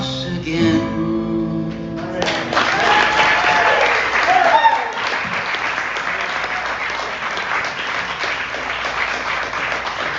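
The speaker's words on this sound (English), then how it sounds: "another round of applause" A crowd bursts into applause as a live song ends, the music fading out and giving way to dense, sustained clapping and cheering.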